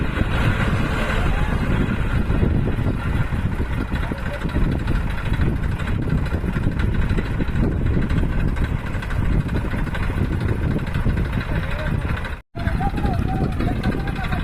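Two tractors chained front and back strain at full throttle to pull a stuck tractor free in a village field, a loud, steady engine roar with wind buffeting and voices talking over it, cutting out briefly near the end.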